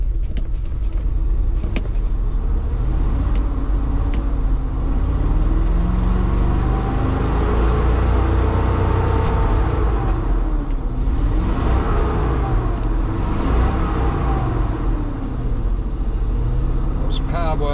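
An old parts Jeep engine running on stale gasoline gives a steady, loud, low rumble that carries on throughout, with a voice faintly present in the background.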